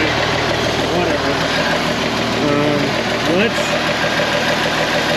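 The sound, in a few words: IH 4166 tractor engine idling with exhaust leak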